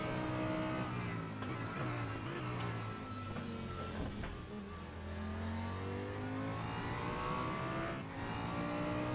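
A McLaren race car in a racing game at Sepang drives past with a loud, sustained engine note that rises and falls as it shifts, with several cars droning together close by.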